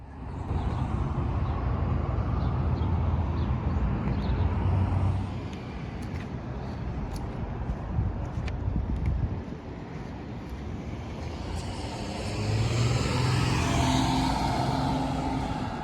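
A blue Mach 1 car is driven, producing a continuous engine and road rumble mixed with heavy wind buffeting, with the drone swelling again near the end.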